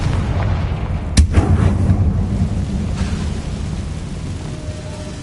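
Confringo explosion spell in the video game Hogwarts Legacy: a sharp blast followed by a rumbling boom that decays over a low, continuous background rumble.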